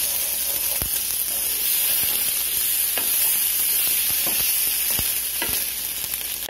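A spoon stirring cream cheese in a hot pan for keto shrimp alfredo, heard as a steady close hiss and sizzle broken by soft intermittent scrapes and taps of the spoon, with no voices.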